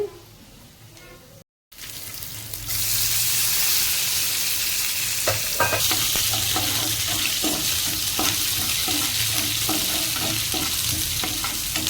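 Okra coated in gram flour frying in a pan, starting quiet and then erupting into a loud, continuous close sizzle with intermittent stirring clicks and scrapes throughout.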